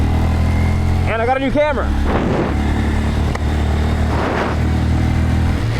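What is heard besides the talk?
Honda Grom motorcycle riding in snowy, icy conditions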